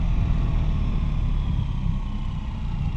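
A 2026 BMW R 1300 RT motorcycle's engine drones steadily while riding, a continuous low rumble with a faint rushing layer on top, holding an even level throughout.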